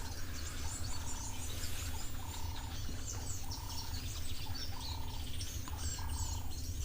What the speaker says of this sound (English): I can hear some bird alarm calls in the background there